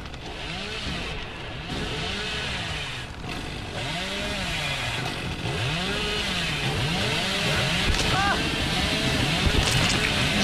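Chainsaw revving in the horror game Dead by Daylight, a steady buzzing drone with repeated rising and falling engine sweeps across the whole clip, loud and continuous beneath overlapping talk and game noise.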